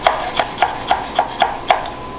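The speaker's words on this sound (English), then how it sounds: "And just give a little chop." Knife chopping fresh dill on a board for compound butter, seven crisp evenly spaced cuts up close with no talking.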